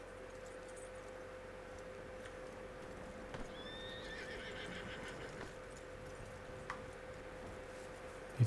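In Red Dead Redemption 2, a horse whinnies once, clear and fairly close, over a quiet steady ambient hum, with a few soft hoof clops and a sharp knock at the end.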